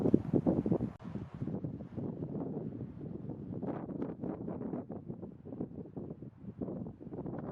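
Breeze gusting across an open mountain trail in Colorado's Flat Tops Wilderness, a steady rushing wind buffeting close to the microphone, louder at the start and then holding at a moderate level with no voices.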